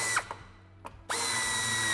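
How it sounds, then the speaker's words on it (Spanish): A power drill drives the screw back into the lower bumper of a 2008–2013 Renault Kangoo II AllRoad: a short whirring burst, a brief pause and a quick blip, then the motor spins up again and runs steadily, close and loud. "Y volvemos a sujetar la parte inferior del paragolpes con el tornillo que llevaba."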